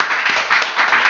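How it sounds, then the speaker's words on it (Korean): Brief, steady burst of applause from a workshop audience, a continuous wash of clapping with no voices standing out. "우리 두 가지 박수 한번 들어주시고요"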